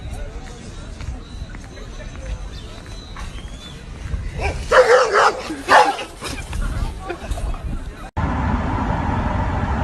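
Several dogs bark and yelp in a quick, loud burst in the middle, amid background chatter and shuffling, followed by a change to steady noise.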